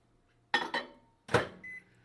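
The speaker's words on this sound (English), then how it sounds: "I am going to heat it up in the microwave." A microwave oven being started to reheat cold chicken: a few sharp clunks from the door and buttons, then a short electronic beep, all fairly quiet in a home kitchen.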